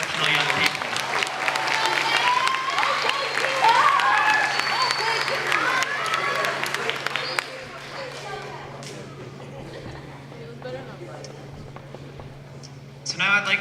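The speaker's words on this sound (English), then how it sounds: "a round of applause for these 4 exceptional young people" An audience at the Healey School moving-on ceremony claps loudly for about seven seconds, then the applause thins to scattered claps and room noise before a few final claps near the end.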